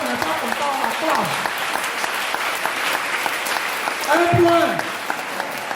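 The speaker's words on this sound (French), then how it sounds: "Bien-aimé, acclame le Seigneur." Congregation in church clapping and cheering to acclaim the Lord during a spiritual revival service, loud sustained applause with a preacher's voice speaking and calling out over it.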